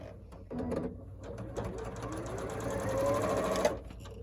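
A sewing machine stitches a quilt block with a beginner and ender scrap, its motor whirring in short bursts and then running steadily faster, close and alone before stopping abruptly.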